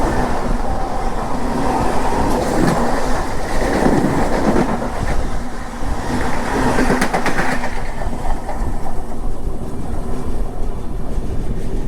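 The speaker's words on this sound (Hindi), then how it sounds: "सामने आ रही है लोकल, दहानू रोड।" A Dahanu Road local commuter train approaching on the Mumbai suburban line, heard from aboard a moving train, with steady loud rumble and rail clatter that swells and then eases toward the end.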